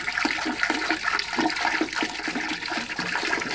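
Antifreeze is poured into a mobile home trailer toilet during winterizing, giving a loud, close, continuous splashing gurgle of liquid into the bowl, with no talk.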